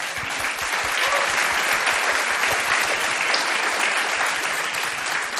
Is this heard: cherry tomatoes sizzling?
no